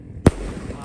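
A mercon firecracker set off outdoors during an afternoon ngabuburit before breaking the Ramadan fast: one sharp, loud bang close by, trailing into a brief hissing decay with faint background noise.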